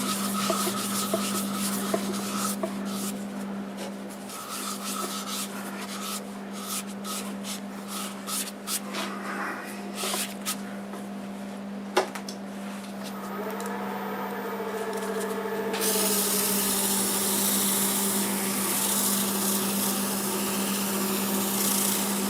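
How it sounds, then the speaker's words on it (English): Cherry wood on a wood turning lathe being polished with Axe abrasive paste over shellac sanding sealer, a steady motor hum under rubbing and scratching that grows into a louder, brighter continuous hiss toward the end. "now I'm going to use the Axe abrasive paste on it"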